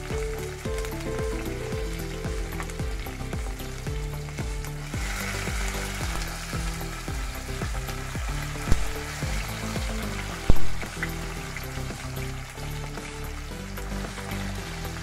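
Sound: onions and tomatoes frying in a pan

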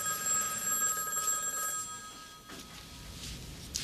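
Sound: telephone ringing

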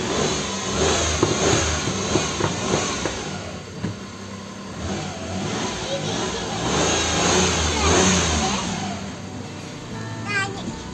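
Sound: car engine started and revving

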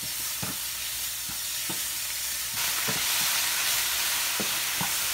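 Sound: salmon patties frying in butter in a pan

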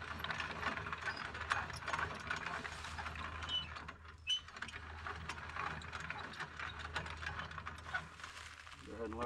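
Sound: HME hitch hoist winch being lowered

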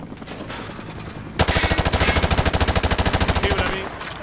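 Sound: machine gun spraying bullets in Modern Warfare 2 video game

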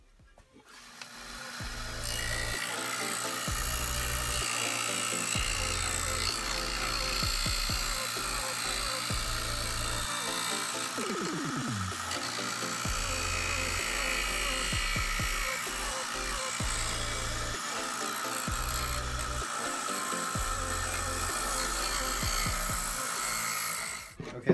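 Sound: belt sander shaping wooden skateboard

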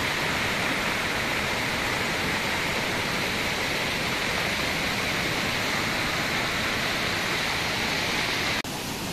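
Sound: flooded stream rushing after rain

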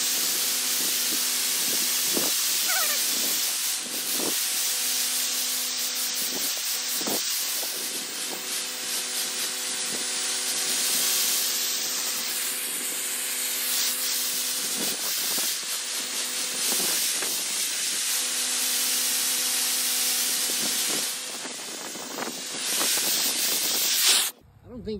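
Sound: spraying Ox-Knox cleaner on vinyl siding at 70 PSI

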